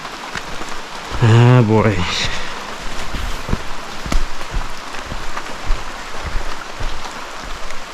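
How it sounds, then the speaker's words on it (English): Heavy rain pounding steadily on the surroundings on a wet outback walk to Rainbow Falls, a dense close hiss with scattered drops, as someone briefly speaks early on. "I don't like how hard it's raining though."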